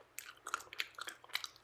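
A Ritter Sport milk chocolate bar with whole hazelnuts is bitten and chewed close up, giving several quiet, crisp crunches in an irregular rhythm with no talking.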